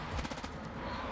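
Rapid enemy machine-gun fire in a first-person shooter video game, a dense run of bursts that stays loud and steady throughout, with no clear speech over it.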